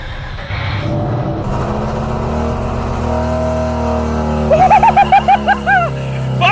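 A Mazda RX8 with a Renesis rotary engine at its first start, loud and close, with a deep rough idle that rises and then blips through several quick revs near the end.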